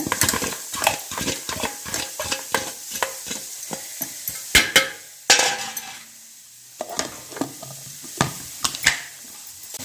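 Onion, garlic and curry leaves dropped into hot oil for a cluster bean chutney, with rapid rhythmic spatula strokes scraping the pan over a crackling sizzle, a brief pause near the middle, then stirring resumes; no talk.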